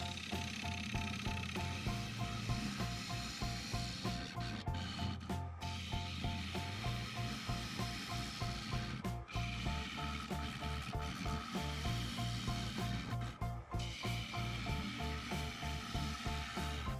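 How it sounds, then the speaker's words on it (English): A lathe turns a dry birch burl riddled with bug holes and trails, the tool scraping in a fast, rhythmic chatter and hiss as the uneven burl spins, steady and moderately close with no voices. "What I'm trying to do is turn down just a small amount"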